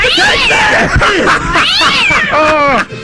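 A cat being hit gives loud, drawn-out meows and shrill caterwauling yowls, rising and falling close up for about three seconds without pause.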